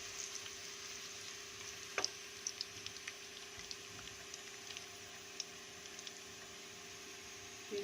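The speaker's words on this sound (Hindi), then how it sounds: "थोड़ा सा मसाले को भी हम भूनेंगे।" Garam masala being fried with browned onions in a pan: a faint, steady sizzle with occasional small ticks and scrapes from stirring, quiet and without talk.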